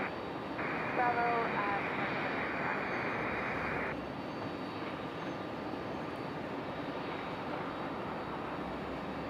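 Airliner engine noise rumbles broadly and steadily at Raleigh Durham airport, with a Southwest jet on the field, while a radio transmission briefly cuts in early and someone talks quietly.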